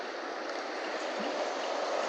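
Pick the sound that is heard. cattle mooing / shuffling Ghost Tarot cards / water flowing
water flowing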